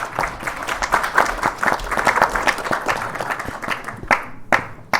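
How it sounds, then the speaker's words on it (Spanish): An audience at a book launch event applauds for the foundation director, dense steady clapping filling the room for about four seconds before thinning into a few scattered final claps. "Un aplauso para Jorge."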